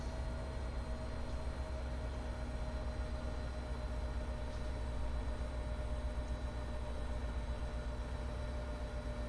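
A train in a rail-management video game, a steady low rumbling drone with a faint whine above it, even and continuous, with no talk over it.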